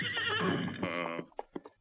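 A paint horse gives a loud, close whinny that wavers and then falls off, followed by a few quick hoof clops as it settles.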